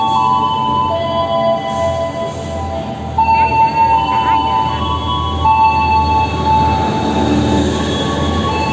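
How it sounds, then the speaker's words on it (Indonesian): Minangkabau Express airport train pulling into a station in Padang, with a sustained loud rumble, high tonal brake and wheel squeal through the arrival, and brief voices in the background. "ini kita tunggu detik-detik keretanya mau nyampe"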